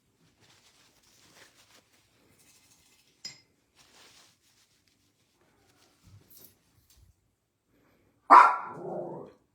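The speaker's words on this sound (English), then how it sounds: "Oh, she hears a dog." A dog gives a loud bark and a short yelping tail near the end, breaking a quiet indoor stretch of faint clinks and small noises, during a live snowman painting session.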